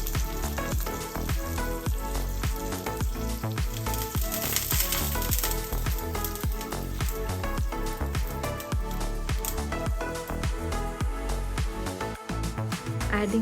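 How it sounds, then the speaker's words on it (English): Nuts sautéing in ghee in a kadai for traditional gajar ka halwa give a steady close sizzle and crackle throughout, with frequent sharp ticks and pops as they are stirred, continuous and even in level. "ghee, nuts of your choice and saute till golden brown"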